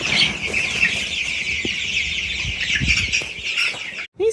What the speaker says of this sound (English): The backyard chickens are still around.